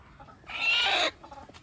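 Backyard chickens suffering in hot weather let out one loud, harsh cluck-squawk in the middle, with quieter hen murmurs before and after.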